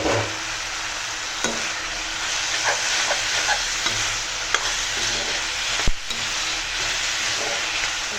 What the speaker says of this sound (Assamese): এইটো চিলি চিকেনে হ'ব যায় এতিয়া দিম চিকেন